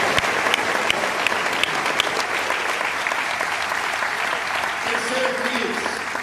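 Steady congregational applause in a church service, many hands clapping in a continuous dense wash for several seconds, with a faint voice near the end.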